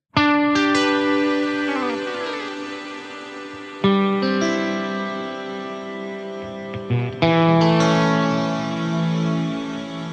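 Electric guitar chords through an Eventide H90 Black Hole reverb ring out into a huge, washy reverb with long swirling tails, struck three times and left to decay.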